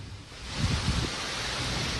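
Heavy rain pours in Hyderabad, a dense, continuous broadband roar of falling water, loud and steady throughout, with a faint low rumble midway.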